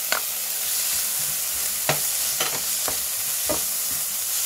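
Garlic and green onion stir-fry in a pan with a constant hissing sizzle. Several sharp scrapes and taps from stirring stand out at irregular intervals over the sizzle, and no one speaks.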